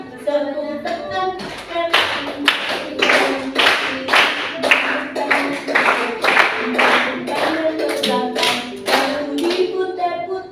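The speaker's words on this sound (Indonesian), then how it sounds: "tepuk tangan" Children clap their hands along with a song, about a dozen crisp, evenly spaced claps in a steady rhythm over sung melody.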